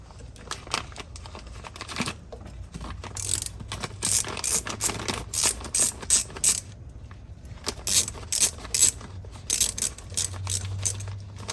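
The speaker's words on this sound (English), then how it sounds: "And then you tighten the torque screw." Ratchet tightening the torque screw on an ignition coil of a 2007 Porsche 997 Turbo, close rapid clicking bursts in several runs separated by short pauses.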